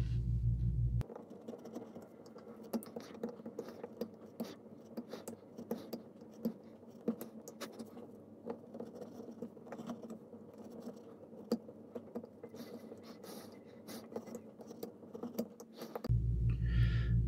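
A blade cuts a scale pattern into a wooden tarpon stick bait lure, making a steady, close, fine scratchy rasp dotted with small clicks that runs for most of the stretch without talk.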